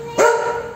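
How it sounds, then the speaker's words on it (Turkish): A single short, sharp bark from a curly-coated dog comes close and fairly loud indoors, with a brief tonal yip quality. "İçeride köpek var."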